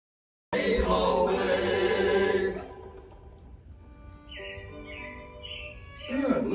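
Robins chirp at Walt Disney World's Magic Kingdom before a hurricane. Loud music plays first, then a series of short, high, repeated chirps sounds over a quieter background hum.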